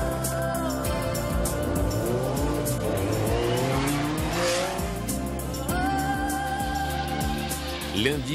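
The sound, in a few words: Citroen ZX Rally Raid car racing on Dakar rally track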